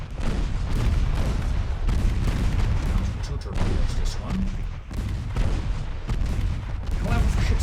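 Naval 4-inch and 3-inch guns firing in the Ultimate Admiral Dreadnoughts naval warfare game, a dense stream of rumbling booms and rapid overlapping shots, loud and continuous with brief dips.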